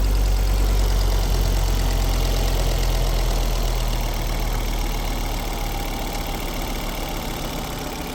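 An XR5 motorcycle engine idles with the oil filler cap removed, a steady low rumble with fine knocking pulses that slowly fades slightly in loudness, heard close with no talk.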